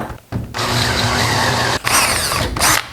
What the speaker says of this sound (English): Lower the speed on the drill, which increases the torque.